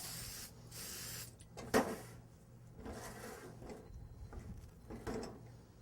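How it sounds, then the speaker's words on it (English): A short hiss of cooking spray onto a spatula, one quick burst amid quiet kitchen clatter and mechanical handling noises. "I'm also going to spray my spatula."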